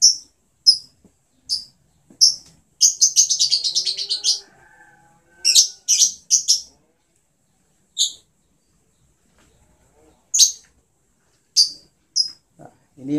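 A pet lovebird lets out sharp, high chirps, mostly single calls spaced a second or so apart with one quick rapid trill, close and clear against near silence.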